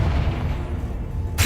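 A Confringo fire spell blasts in Hogwarts Legacy, a short, heavy, low rumbling burst held close and loud, cut off by a sharp crack at the end.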